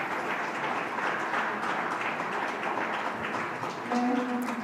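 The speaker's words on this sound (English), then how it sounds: "please give them a warm round of applause once again" Audience applause at the Asia-Pacific Young Leaders Forum in Jeju, a steady dense wash of many hands clapping that holds loud and even throughout, with a faint tonal sound entering near the end.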